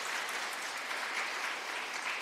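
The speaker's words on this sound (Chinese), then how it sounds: "我们为这一群热心的同工，给他们拍手感谢一下谢谢" A church congregation at a Sunday service claps steadily in warm applause for volunteers, a dense even wash of many hands lasting a couple of seconds.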